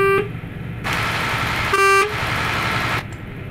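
A MAN Lion's Coach bus horn in Euro Truck Simulator 2 sounds in two short blasts inside the Ilgaz tunnel, loud over a steady engine and road rumble.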